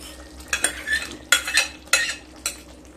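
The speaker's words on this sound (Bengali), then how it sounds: "এরপর ভেজে রাখা পটলগুলোকে দিয়ে দেব।" Fried pointed gourd goes into a pan of boiled potatoes and is stirred, with a low sizzle under distinct metal clinks and scrapes from a spatula. About four sharp strokes land close and clear, with no voices.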